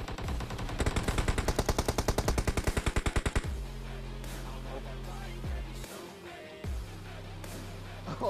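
Rapid automatic gunfire in the mobile battle royale game PUBG Mobile, a fast even burst of shots for a few seconds, then scattered single louder shots with echoing tails over a steady game background hum.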